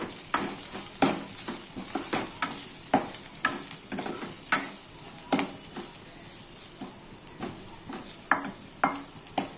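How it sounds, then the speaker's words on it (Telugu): A spoon stirs chili powder and turmeric into a sizzling tempering for spinach dal, with repeated scraping strokes against the pan over a steady frying hiss. "ఇందులో కొంచెం కారం, కొంచెం పసుపు వేసుకొని కలుపుకోవాలి."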